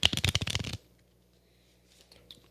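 A deck of playing cards is riffled in a quick burst of crisp flutters during a call-in broadcast at deer camp, then left in near silence with only faint handling noise afterward.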